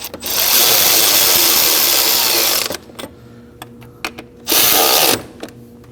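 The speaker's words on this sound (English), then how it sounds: "Now we're gonna go ahead and get those 4 bolts snug up." A power tool whirs in two bursts while snugging the four starter bolts on a 2011–2016 Kia Optima, first a long loud run, then a pause with small clicks, then a shorter burst.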